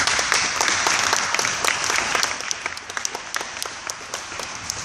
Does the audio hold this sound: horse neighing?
no